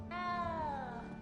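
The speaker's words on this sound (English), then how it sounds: "You don't need to be frightened, little cat." A small cat in the video game Hogwarts Legacy gives a single drawn-out meow that starts high and slowly falls in pitch. It is clear and close over a low steady hum.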